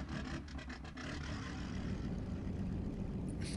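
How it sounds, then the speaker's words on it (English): Simulated light airplane engine starting in a flight simulator, a few sputtering pulses at the start settling into a steady low propeller drone, with a brief higher sound near the end. "let's start the engine"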